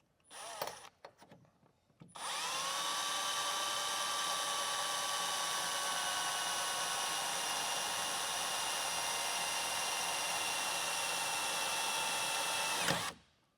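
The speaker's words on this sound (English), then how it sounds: "you will use that and hold that up there as you bring your drill up to that hole and drill upwards" A power drill whines steadily for about eleven seconds at high speed, drilling upward into the metal of a Jeep Wrangler JL, after a few brief starts, then stops abruptly; loud and close with no voices.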